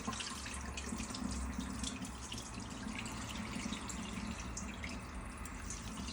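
Rinse water from washed rice flowing steadily from a pot into a sink, a continuous close splashing and trickling wash that runs unbroken for the whole stretch, with no voices.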